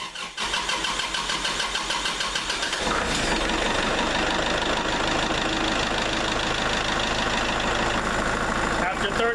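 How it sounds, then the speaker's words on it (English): A Kubota tractor's diesel engine cranks and catches, then runs steadily at a loud, close, rough idle with a constant knocking clatter throughout. "And now we'll run the tractor for 30 seconds."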